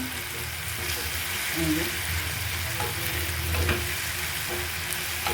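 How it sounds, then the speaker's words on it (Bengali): Ground spices with turmeric and cumin sizzle steadily in hot oil while being stirred in a pan, a continuous close frying hiss broken by soft scraping strokes, with no talking. "মশলাটাকে খুব সুন্দর করে কষিয়ে নেবেন"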